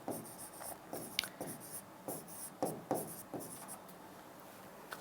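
A teacher writes "Common Era" on a board during a history lesson: scratchy strokes come in short, uneven bursts with brief pauses between letters, close and clear, with no speech.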